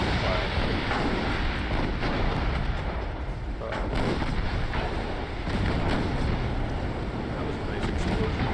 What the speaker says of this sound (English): That was a nice explosion right there.